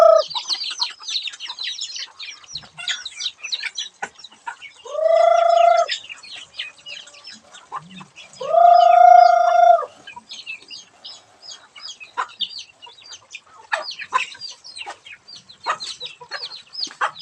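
Chickens cluck and chirp close by in a quiet yard, with two longer, louder tonal calls standing out between scattered short clucks.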